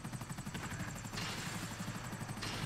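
A helicopter in GTA Online gives a steady rhythmic rotor chop with a whining turbine hiss, continuous and close throughout.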